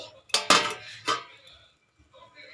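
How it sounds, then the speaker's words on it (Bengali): Metal clinks as a lid is set onto a cooking pot with fish roe curry and kasuri methi, two bright clanks close together followed by a faint settling rattle. "এবারে আমি একটু ঢেকে রাখবো"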